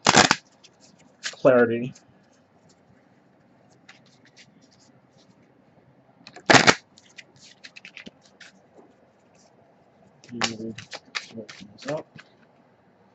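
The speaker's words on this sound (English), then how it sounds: "So I'm just gonna do pull a little numerology card." A deck of numerology cards is shuffled with brief, crisp riffling bursts at the start, middle and end, close and fairly loud, with short stretches of speech between them.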